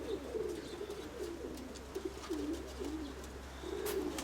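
Grey pigeons coo in a loft, a steady run of low, rolling calls repeating close by over constant background hum, with a few faint higher chirps and no voices.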